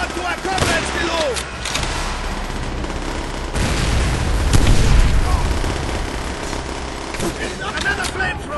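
Rapid gunfire and heavy explosions in the Call of Duty: World at War mission "Vendetta", dense bursts of shots and booming blasts layered under shouted game dialogue.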